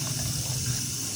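Tap water runs steadily as it fills a water container for young chicks, a constant rushing splash heard up close with no voices.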